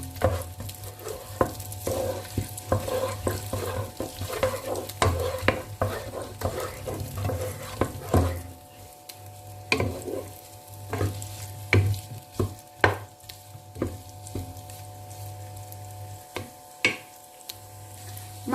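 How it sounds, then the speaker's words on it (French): Sausages and onion in a pan are stirred with a utensil over steady frying sizzle, giving repeated scraping and tapping strokes close by. The sizzle runs throughout and there is no talking. "on va mélanger les saucisses avec l'oignon. Il faut que les saucisses cuisent bien."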